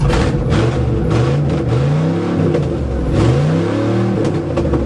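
A GMC 4x4 pickup truck engine on a test drive, revving in rising and falling pulls over a steady idle rumble, loud and close with no voices.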